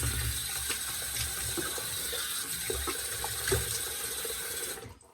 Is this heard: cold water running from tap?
yes